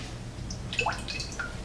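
Lemon juice poured into a bowl of oil makes a brief, faint liquid trickle with a few small drips, heard up close and alone.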